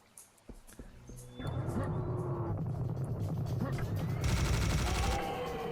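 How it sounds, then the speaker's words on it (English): Minigun fire in the first-person shooter Serious Sam Classics Revolution, a sustained loud rapid roar of shots that starts after a quiet moment and keeps going, with mixed game noise underneath. "the minigun definitely does more damage in this one"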